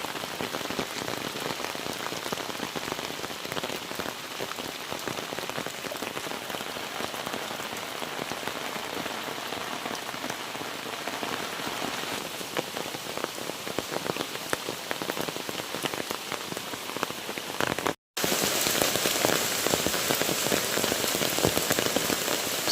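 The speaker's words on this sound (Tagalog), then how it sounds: "Iya ay lagitik naman ng ulan" Rain patters steadily on a surface near a riverside outdoor cooking spot, a constant even hiss of drops lasting the whole stretch with one brief cut near the end and no voices.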